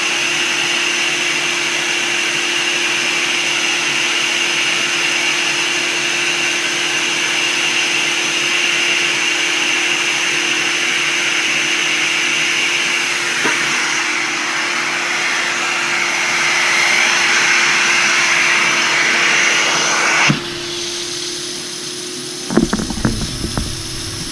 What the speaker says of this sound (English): what we're going to do is rinse it out of the carpet, whatever's remaining